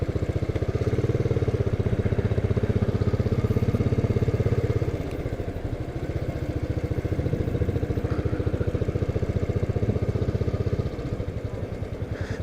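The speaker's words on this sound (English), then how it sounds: "535cc single engine, single cylinder engine" A 2016 Royal Enfield Continental GT with a 535cc single-cylinder engine idling close by, a steady rapid thumping beat that dips slightly midway and carries on.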